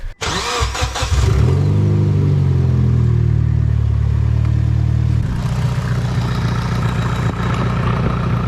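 A Mitsubishi Evo VIII cranks and fires up loudly, with a brief starter whir, a surging rev, then a steady rumbling idle close by.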